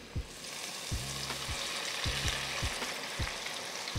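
Food deep frying in a fryer, a continuous close sizzle and bubbling hiss with occasional low knocks and scrapes as the pieces are stirred.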